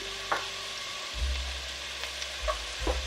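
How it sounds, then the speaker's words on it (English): Chopped onion dropped into hot olive oil in a pot, giving a steady low sizzle with a few soft clinks and stirring scrapes, close and fairly quiet. "I am going to take the onion and drop it in"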